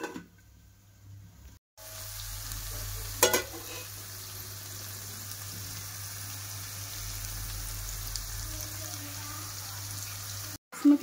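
Egg biryani masala cooks under a lid in a pan with a faint, steady low sizzle. A couple of brief knocks interrupt it, and the sound drops out for short moments.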